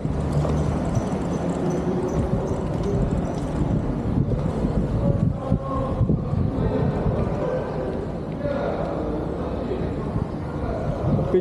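Strong gusty wind at Abha airport buffets the microphone with a loud, continuous rumble and roar, while people talk in the background.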